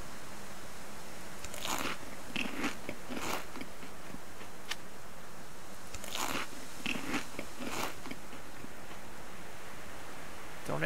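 Crunchy biting and chewing as a character eats food in the survival game Subsistence, several bursts of crisp crunches spread over a steady low background hiss.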